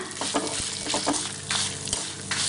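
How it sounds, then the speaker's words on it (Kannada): Dried chilli, curry leaves, cumin, cardamom, cinnamon, urad dal and chana dal roasting in oil, making a steady close sizzle with repeated stirring scrapes. "ನೀವು ಇದನ್ನು ಚೆನ್ನಾಗಿ ಹುರಿಬೇಕು ಈ ಉದ್ದಿನ ಬೇಳೆ ಕಡಲೆ ಬೇಳೆ ಸ್ವಲ್ಪ ಕಲರ್ ಚೇಂಜ್ ಆಗ್ತಾ ಬಂದ ಹಾಗೆ ನೋಡಿ"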